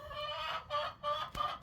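Unhappy chickens cluck repeatedly from a chicken tractor outdoors during a nor'easter, a few short agitated calls in a row heard fairly close, with a sharp knock partway through.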